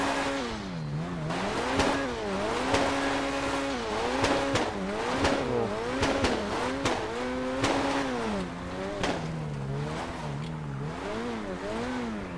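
A Ford Focus engine in Grand Theft Auto V revs up and down as it shifts through gears, its pitch rising and falling steadily, with occasional sharp tire screeches.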